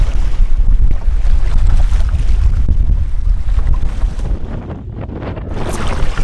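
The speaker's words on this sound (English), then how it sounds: "that wind is strong and it takes a lot out of us" Strong wind buffeting the microphone on a lake while paddling on a boreal forest camping trip, loud rumbling gusts over water noise that ease briefly near the end before picking up again.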